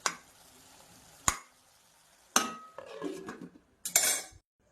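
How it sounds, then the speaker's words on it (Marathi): Cooked dill (shepu) vegetable stirred in a pan with crushed peanut powder gives a few sharp, close clinks and short scrapes of a spoon against the pan, spaced apart with quiet gaps. "आता शेंगदाण्याचं कूट टाकूयात आणि हलवायचं थोडंसं."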